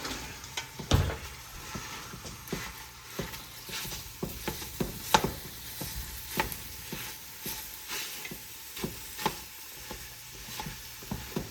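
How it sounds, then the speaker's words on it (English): Meat browning in a pan for homemade Iowa chili soup, a quiet steady sizzle broken by regular scraping and clacking strokes of a utensil against the pan. "right now we're just browning the meat"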